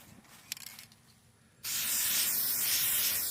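Paint sprays onto a fiberglass push pole: after a quiet start with a few light knocks, a steady, close spray hiss begins and continues to the end.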